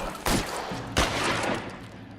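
Shotgun fire in a video game: two heavy, booming blasts roughly 0.7 seconds apart, each with a long rolling tail over a continuous rumbling background.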